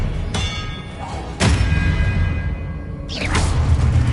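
An Expelliarmus spell is cast in Hogwarts Legacy: sharp magical impacts and thuds land at intervals, with a bright shimmering swoosh near the end over a constant low hum.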